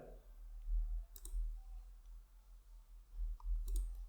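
A computer mouse gives a few sharp, quiet clicks at a desk, spaced irregularly over a low background hum.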